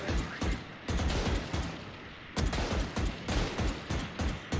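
Rapid bursts of gunfire in the video game Valorant crackle loud and close, coming in clustered volleys with short gaps between them.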